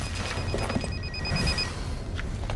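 A telephone bell rings steadily over a dense background of noise, its repeated trills fading out partway through and leaving only the din.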